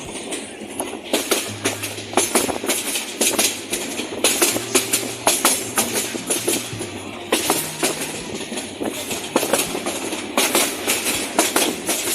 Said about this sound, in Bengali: সেই ব্রিজের নিচ দিয়ে এখন পারাবত ট্রেনটি যাচ্ছে